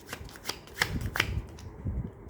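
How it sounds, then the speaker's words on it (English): A deck of playing cards shuffled by hand for a card trick, several crisp riffling bursts up close with soft handling noise between them and no talking. "the 8 of diamonds is completely lost and the deck is shuffled"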